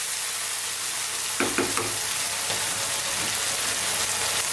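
Beef stir fry with oyster sauce sizzling steadily over high heat in a pan, with a few sharp scraping clicks of stirring near the middle, close and continuous without talk.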